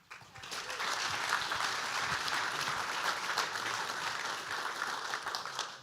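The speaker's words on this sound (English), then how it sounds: "Can we have one more round of applause for the graduating class of 996?" A crowd at a Guide Dogs for the Blind graduation claps for the graduating class, a sustained even round of applause that swells quickly and holds steady before easing at the end.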